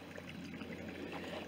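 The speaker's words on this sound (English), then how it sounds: "There's a little bit of the babbling brook here," A small babbling brook trickles along a lush countryside walk near Crowcombe, Holford and Bicknoller in Somerset, giving a faint, steady watery murmur with no voices.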